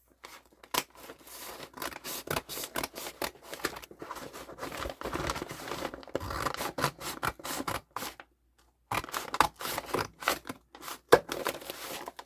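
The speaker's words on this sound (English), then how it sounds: "I'm just going to cut a more manageable piece to work with." Scissors cutting a brown paper lawn bag, a steady run of close crisp snips and paper crinkles with one short pause near the end and no voice.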